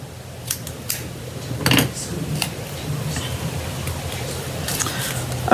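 Scissors snip the ends off paper during a craft technique class: a few short close cuts scattered across a low room hum, with no one speaking.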